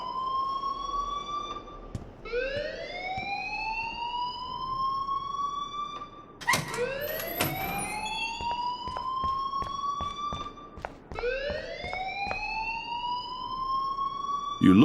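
A rising and falling electronic alarm wails in the video game Life Is Strange, its repeated upward-sweeping tones cycling loudly with a brief crash of noise midway and no talking.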